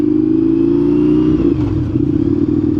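An Indian FTR1200 motorcycle at highway speed gives a loud, steady engine drone with rushing wind. Partway through, the pitch shifts and wavers. No voices.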